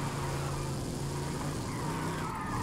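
A car drifting in Forza Horizon 5's Los Campos drift zone, a steady engine drone with tire noise held at an even level, fairly quiet and continuous with no talk.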